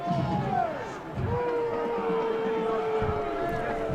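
A high school football playoff crowd at a Springdale versus Cabot game, a loud sustained roar of displeased voices with rising jeers and whistles, commentators talking over it.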